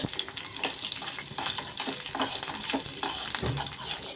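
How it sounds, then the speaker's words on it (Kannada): Green chillies fry in hot oil in a pan, a close, crackling sizzle with wet bursts and spitting that carries on steadily for a few seconds. "ಈಗ ಒಂದು ಮೂರರಿಂದ ಐದರಿಂದ ಆರು ಹಸಿಮೆಣಸಿನ್ಕಾಯಿ ಹಾಕೊತಾ ಇದ್ದೀನಿ ಹುರ್ಕೊಳ್ಳೋಕ್ಕೆ"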